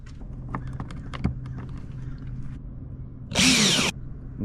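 A power drill runs in a few short bursts while washers are fastened onto a Sea-Doo's plastic deck, with light clicks and handling taps, then a louder whirring burst near the end.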